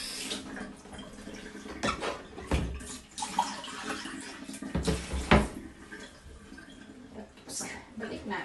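Orchid roots from a water-culture orchid being washed and swished in water, with splashing and running-water sounds rising and falling while a person talks.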